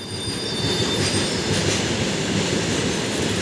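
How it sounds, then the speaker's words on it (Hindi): Goods train hauling coal rolls past a railway station in Jharkhand, a steady loud rumble of wagons with faint wheel squeal throughout, no voices. "ये पैसेंजर ट्रेन है, वो गुड्स ट्रेन है, देखो उसमें कोयला जा रहा है।"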